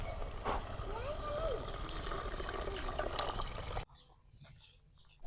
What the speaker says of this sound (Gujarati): આપણે હવે આમાં પાણી નાખી દઈશું.